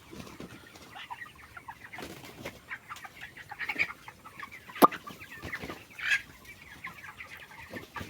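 Broiler chickens about 20 days old on a farm, scattered soft clucks and chirps from several birds nearby, with occasional sharper calls and a brief wing flap, fairly quiet overall.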